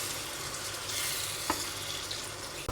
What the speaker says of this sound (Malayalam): നമ്മൾ നന്നായിട്ട് ഇളക്കി കൊടുത്ത് ഉപ്പും ഇട്ട്